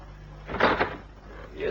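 A door closes with a soft, muffled thud followed by a short rattle, as if a lock is being turned. It is brief and quiet, set against faint room noise.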